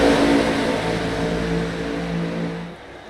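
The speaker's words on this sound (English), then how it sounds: "Just hear those engines revving up out of turn 3" Race car engines rev out of turn 3 at Talladega in a NORA Cup Series race, a steady, loud, dense engine roar with layered harmonic drone throughout.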